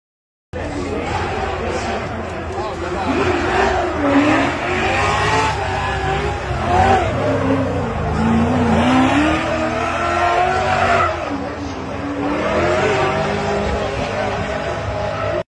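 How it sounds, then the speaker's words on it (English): A carbon-Kevlar BMW E36 drift car at a Drift Masters competition screams at high revs with warbling engine tones and tire squeal, loud and sustained, with commentary and crowd noise running beneath. "HGK built BMW E36 all carbon Kevlar, and he drives it like a madman"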